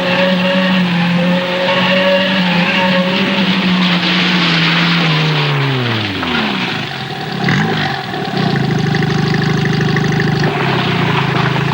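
A 1974 Lebanon–Syria rally car's engine and exhaust roar loudly, with the pitch sweeping down as it slows, then a rougher revving drone building again, close and continuous.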